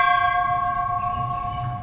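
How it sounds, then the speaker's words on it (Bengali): A large monastery bell, heard in a Japanese-style forest setting, rings with a loud sustained metallic tone that slowly fades, its clear overtones hanging over light outdoor background noise. "আওয়াজ শুনতে পাচ্ছেন ঘন্টা"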